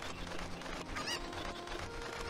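A cucco chicken from Zelda: Ocarina of Time squawks once in a brief, sharp honking cluck over steady game background sound.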